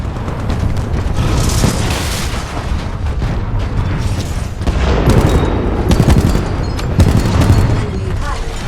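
Titan mechs trade gunfire in a Titanfall 2 Attrition match on the Relic map, a loud continuous barrage of shots and booming explosions with heavy rumble throughout.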